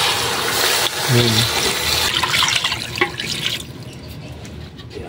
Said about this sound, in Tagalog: Lagay na rin tayo yung tubig